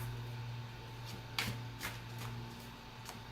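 Oracle cards being shuffled by hand, several short riffling snaps spaced about a second apart over a low steady hum, close and quiet, with no talking.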